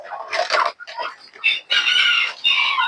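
A gamecock rooster named Piccolo crows and clucks close up, with loud bursts of crowing and shorter clucks in uneven succession and no people talking.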